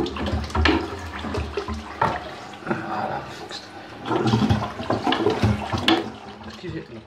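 A house toilet in Neath, Wales flushing, with rushing, gurgling water that swells and subsides over several seconds, heard close in a small room.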